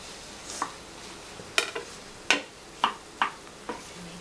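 Cauliflower being stirred into a sauce-coated pan for Gobi Manchurian: a soft background hiss broken by about seven sharp, scattered clinks and scrapes of a spoon against the pan, close and alone.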